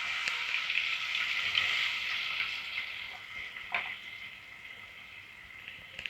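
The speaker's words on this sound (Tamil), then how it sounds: "வெங்காயம் நல்லா கோல்டன் ஃப்ரை ஆகிற வரைக்கும் வதக்கி விட்டுட்டே இருக்கணும்" Chopped onions with bay leaf, cardamom, cloves and cinnamon frying steadily in oil in a home kitchen pan, a continuous close sizzle with brief stirring scrapes partway through, no voices.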